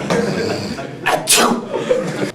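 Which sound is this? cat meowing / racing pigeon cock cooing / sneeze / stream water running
sneeze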